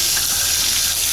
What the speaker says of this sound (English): pink's coming through here. I'll let it run a little bit.